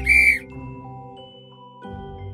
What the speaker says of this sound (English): W is for whistle.